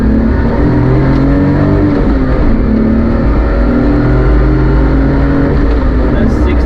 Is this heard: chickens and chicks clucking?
no